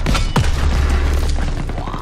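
German rockets exploding in Call of Duty WWII during a battle, a loud booming blast with a sharp crack followed by rumbling low thuds and debris, dense and close in the gameplay mix.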